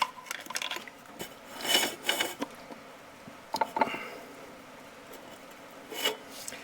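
A screwdriver scrapes and rasps against metal while prying out the input shaft seal on a Massey Ferguson 35 tractor, with irregular close bursts of grinding and a few light metallic clinks.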